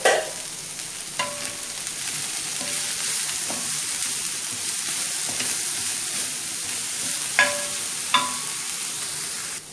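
Filling for egg paratha sautéing in a hot pan, a steady sizzle running throughout with a few sharper scrapes and stirs of a spatula, close and clear with no talk.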